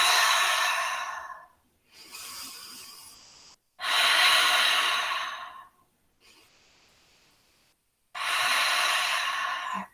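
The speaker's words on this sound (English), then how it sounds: "Deep breaths." Slow, deep yogic breaths during a studio yoga class: three long airy inhales or exhales, each a few seconds long, separated by quieter softer breaths and brief silences, close and clear with no talking.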